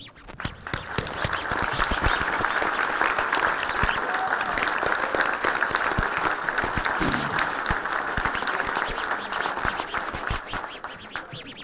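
Audience at a municipal New Year's wishes speech breaks into loud, sustained applause, many hands clapping densely and continuously for the whole stretch without speech.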